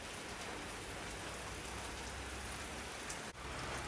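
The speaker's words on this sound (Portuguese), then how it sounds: "começou a maior chuva" Heavy rain pours steadily and loudly across the whole stretch, a dense unbroken hiss of drops hitting surfaces, with a brief dip near the end and no voices.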